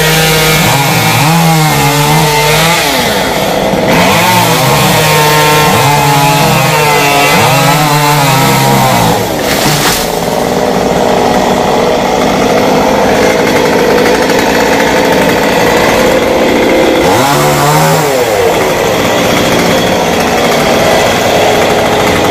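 A chainsaw cuts a Terminalia (tropical almond) tree into firewood lengths, its engine loud and close throughout, rising and falling in pitch as the chain bites and eases through the wood, with no talk.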